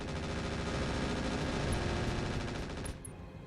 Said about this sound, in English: Point defense turret actually getting a lot done there